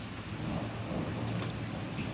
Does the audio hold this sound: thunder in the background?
yes